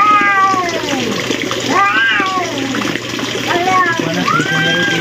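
A cat meows repeatedly in rising and falling wails, loud and close, over steady running water and background chatter.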